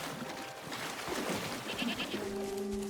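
A goat bleating in the Wuthering Waves video game, a couple of close, wavering bleats over a busy game soundscape with music tones underneath.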